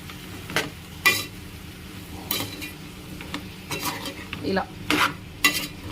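Spatula scraping and stirring ivy gourd (dondakaya) pieces with salt in a frying pan, rough clattering strokes with light sizzle underneath, and a brief spoken word.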